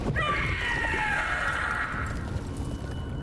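A howler monster in Dragon Age: The Veilguard lets out a shrill, wavering scream over a rumbling game backdrop, loud and sustained for about two seconds before trailing off.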